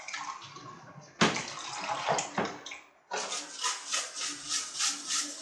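Water brushed and splashed onto the blower of a Gree split air conditioner during home cleaning, heard as close, continuous wet swishing strokes that stop briefly and then resume in a rhythmic series of splashes.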